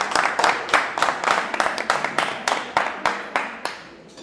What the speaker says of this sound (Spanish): Les pido un fuerte aplauso para Nicolás Trota.